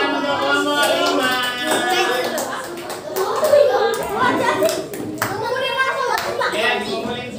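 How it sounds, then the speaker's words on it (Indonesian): Applause for a student group in an Indonesian classroom: steady, dense clapping from many hands, close and lively, mixed with children's voices and chatter throughout. "Tepuk tangan untuk kelompok 5."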